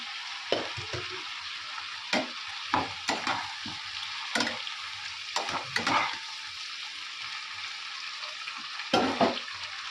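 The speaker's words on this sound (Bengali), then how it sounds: "দেখো অলরেডি আমার সবজিগুলো দিয়ে দিই চচ্চড়ি দিয়ে কষছি" Vegetables for Bengali chorchori fry and sizzle steadily in a pan, with repeated sharp scrapes and clacks of a spoon stirring them throughout, close and fairly loud, with no talking.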